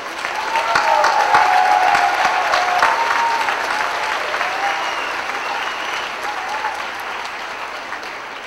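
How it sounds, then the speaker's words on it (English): Sustained applause from a commencement crowd honoring graduates of a master's program, steady and dense throughout and fading slightly toward the end, with a few cheers mixed in. "How about a hand of applause for these hardworking MRAPs?"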